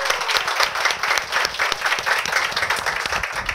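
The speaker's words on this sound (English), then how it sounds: "please help me to give a round of applause for my wife of 24 years" A round of applause from an audience at a leadership talk, honoring the speaker's wife of 24 years; brisk, close clapping with distinct individual claps in a lively, steady patter.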